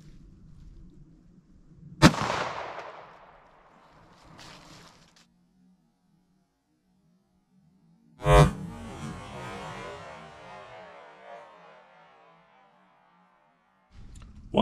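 A Glock 19 pistol fires G2 Research Telos 9mm +p rounds, two sharp loud shots several seconds apart with ringing decay and reverberation, plus a third report starting at the very end, over a low steady hum.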